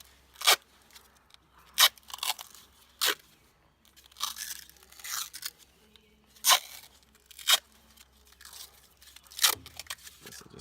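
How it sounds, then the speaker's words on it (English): Red-green duct tape being torn and pulled off the roll close up, sharp ripping bursts repeated about a dozen times at irregular intervals with quieter crinkling between. "My old faithful red-green standby duct tape."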